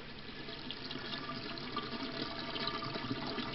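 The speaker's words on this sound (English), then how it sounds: "There's the water going down there, so that's going down at the 40 mil" Water from a pump tumbling continuously down the weir of a large tropical fish shop aquarium into a 40 mm pipe, a steady, dense rushing gurgle heard close up throughout.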